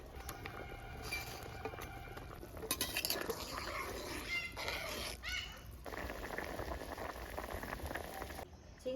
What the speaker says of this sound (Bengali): চিংড়ি মাছের বড়াটা দিয়ে 10 মিনিটের মতো জাল করে নিলাম